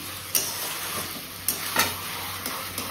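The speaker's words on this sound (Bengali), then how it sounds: "দেখো এখানে তেল দিয়ে জিরে ফোড়ন দিয়ে তারপরে কেটে রাখা পেঁয়াজটাকে দিয়ে দিয়েছি।" Chopped onions fry in oil tempered with cumin seeds, a constant close sizzle broken by a few sharp taps and scrapes of a spoon stirring in the pan.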